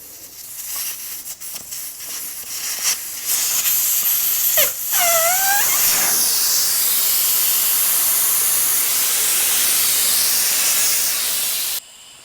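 Air rushes out of a motorcycle tire on a chrome rear wheel once the valve core is removed, a loud steady hiss with a brief squeal at the start that cuts off abruptly at the end.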